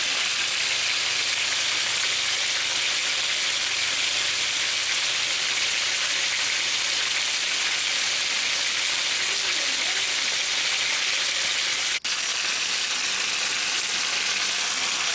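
Pork chops searing in hot olive oil in a pan at home, a steady dense sizzle and crackle running unbroken and fairly loud throughout, with a brief sharp knock near the end.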